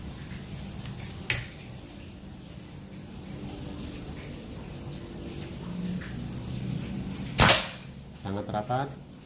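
A Predator Python P-32 PCP air pistol, fitted with a 32 mm stainless tank charged to 2700 psi and a 25 cm barrel, lets off one loud, sharp shot late in the clip, with a lighter click before it and some brief noise after.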